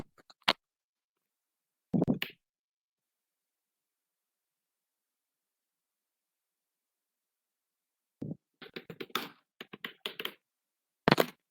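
Fast typing on a computer keyboard while coding a ReactJS web page: a few isolated key taps early, then a long silence, followed by a dense burst of rapid clicking clatter near the end, close and fairly quiet.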